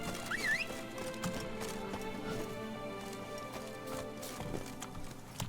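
Roach, the horse in The Witcher 3: Blood and Wine, gallops with a steady, continuous beat of hooves over game ambience. A brief whistle-like tone sounds near the start.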